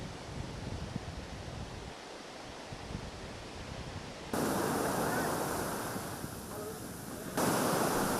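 Sea waves wash onto the eroding shore of Kuta Beach in Bali, a steady broadband rush of surf that swells louder in surges, with wind buffeting the microphone.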